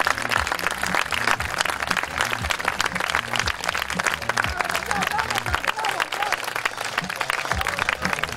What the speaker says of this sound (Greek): Ένα χειροκρότημα για τα παιδιά.